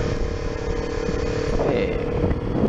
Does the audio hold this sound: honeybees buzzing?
no